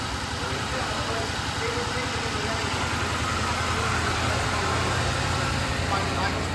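A Ford Crown Victoria engine idling after an intake manifold swap, a steady, close low rumble with an even pulsing throb throughout.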